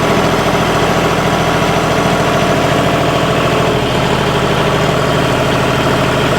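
A John Deere 5210 4x4 tractor engine runs loud and close at about 1600 RPM, a dense, steady diesel drone with constant vibration and a slight shift in tone partway through.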